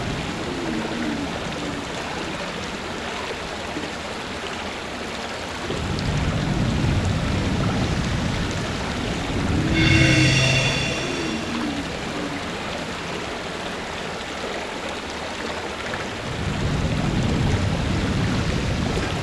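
Wind rushing in a steady broad noise wash while a boat is driven in the GameGuru video game, swelling in louder gusts around the middle and end, with a short bright burst partway through.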